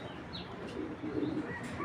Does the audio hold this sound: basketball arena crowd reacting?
no